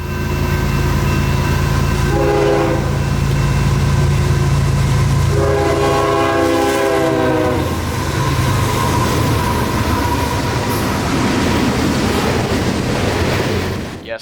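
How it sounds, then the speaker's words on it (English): A heavy freight train hauling ethanol to Tampa, Florida, south of Zephyrhills, rumbles past loudly and continuously, with two long horn blasts sounding early on as the cars roll by. "That's an ethanol train that's going to Tampa."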